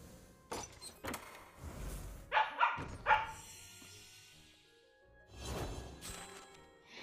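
A puppy barks at characters appearing on a game screen, several scattered sharp barks and yips at varied loudness, with a clustered pair midway and softer noises between.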